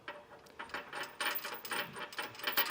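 A 19 mm ratcheting wrench clicks rapidly as it tightens a serrated flange hitch bolt on a 2025 Jeep Wrangler Unlimited, a run of close, crisp ratchet ticks in quick uneven bursts.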